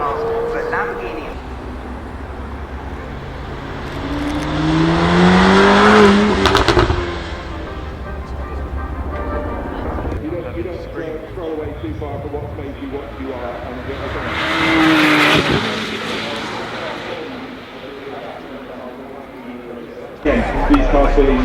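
A Lamborghini Temerario, a 907 bhp turbo V8 hybrid revving to 10,000 rpm, roars past at the Goodwood Festival of Speed in two loud surging passes with rising engine pitch, while a commentator talks over it throughout.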